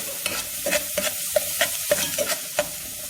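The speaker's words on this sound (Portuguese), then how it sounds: "aqui, ó, a gente vai colocar para dourar essa meia cebola picadinha" Finely chopped onion fries in a pan while it is stirred, with a soft sizzle broken by repeated scraping strokes at an uneven, brisk pace, heard close up.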